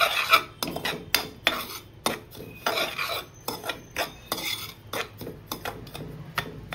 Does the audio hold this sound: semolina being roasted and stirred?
yes